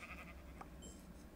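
A quiet, brief bleat comes from a sheep in the Minecraft video game, set against low background noise.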